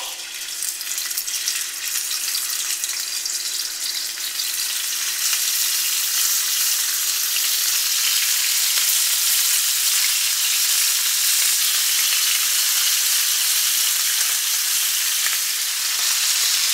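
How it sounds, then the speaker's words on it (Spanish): Stuffed beef rolls, each pinned shut with a toothpick, sizzle seam-side down in a hot frying pan, a steady close broadband crackle and hiss that swells slightly and holds evenly throughout, with no talking. "vamos a colocar cada rollito de carne con el palillo, o sea, con el cierre hacia abajo"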